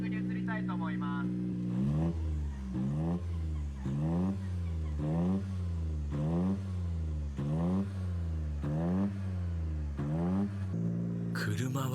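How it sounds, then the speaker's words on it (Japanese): A liquid-hydrogen-fueled race car engine revs up and down repeatedly in steady surges, loud and close, with a brief higher whine near the end. "エンジンかかって液水ポンプも動いていますので、次レーシングに移りたいと思います。"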